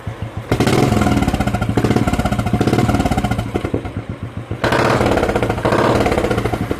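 A Royal Enfield Classic BS4 motorcycle runs close by with a loud, rapid, chugging exhaust thump. Its rhythm surges and dips, and the engine eases off briefly near the middle before picking up again.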